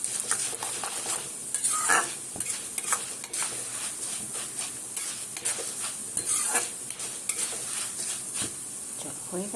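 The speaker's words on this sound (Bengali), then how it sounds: "এইভাবে নাড়া দিতে হবে, খুব চট করে হয়।" Flattened rice (chira) frying in a pan while being stirred briskly, with repeated scraping and clinks of a utensil against the pan over a soft sizzle, close up.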